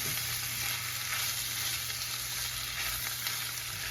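Shark pieces fry in a pan with a dense, even sizzle that holds steady and close throughout, with only faint stirring texture.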